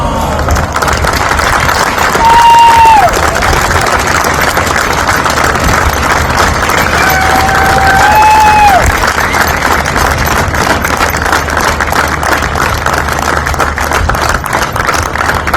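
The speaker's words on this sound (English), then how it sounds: "Give a round of applause, everyone" Outdoor crowd at a summer nationals race meet clapping and cheering during a trophy presentation, steady broad noise with a few distant whoops and shouts rising above it.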